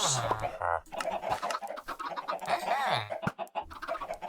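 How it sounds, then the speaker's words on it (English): Chickens in the ComputerCraft survival game cluck and squawk repeatedly in a busy farmyard chorus, close and fairly loud, with other game sounds mixed in. "Wow, this place is noisy. All the chickens and all the homes."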